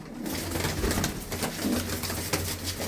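Pigeons of a fine blue-footed breed cooing softly at a loft, low repeated coos under a steady rustling, scratchy background hiss, fairly faint with no clear talk.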